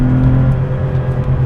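A 1994 Porsche 911 Carrera 993 Tiptronic drops to second with its engine held at a steady, loud, close droning rev, no voices over it.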